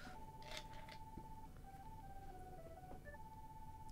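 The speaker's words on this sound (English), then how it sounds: "It's a cell phone? It's coming from you, Sora." A cell phone in Kingdom Hearts 3 rings with a chirpy electronic melody of short beeping tones, fairly faint and steady against soft game ambience.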